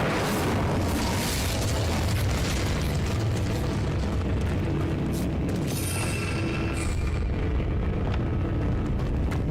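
A Bombarda blasting spell in Hogwarts Legacy sets off a loud, dense explosion, a sustained booming rumble with crackling debris that fills the whole stretch at close range.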